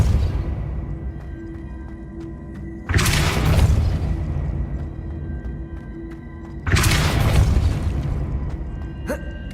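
Two sharp, heavy booms of the Depulso spell striking in Hogwarts Legacy, each with a bright burst and a rumbling tail, spaced a few seconds apart over quiet game ambience.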